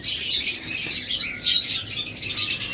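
Pet cage birds, lovebirds and budgerigars, chirp and squawk continuously in high, shrill overlapping calls. The calls are fairly close, with no talking.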